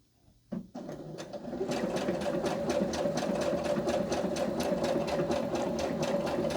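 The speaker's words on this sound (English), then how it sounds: "This sewing machine" A Brother CS5055 sewing machine stitching a pillowcase runs steadily at a fast, even rhythm after a brief start, close and clear with no voices.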